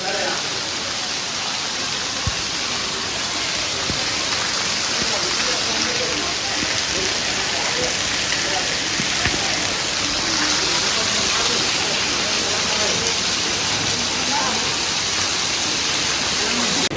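Heavy night rain pours down in Ahmedabad, a dense, unbroken hiss of water that stays steady and fairly loud for the whole stretch.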